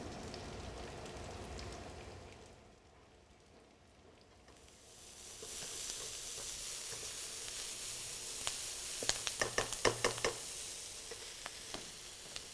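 Onions sautéing in a small amount of oil for a stuffing, a soft rain-like sizzle that fades briefly and then swells, with a run of light spatter crackles and stirring clicks near the end.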